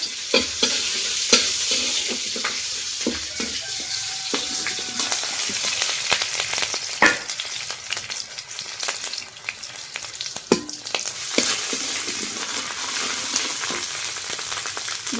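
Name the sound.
chopped green chillies frying and stirred in oil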